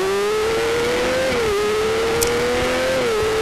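Formula 4 race cars pull away from the start of a Southern Downs road race, a loud high-pitched engine whine climbing through revs, dipping at each upshift, then climbing again.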